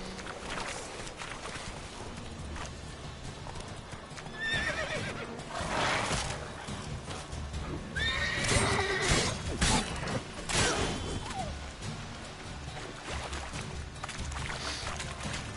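Roach the horse in The Witcher 3 gives a few faint whinnies over a quiet game soundscape of low rumbling ambience and water-like wash, with soft hoof clops.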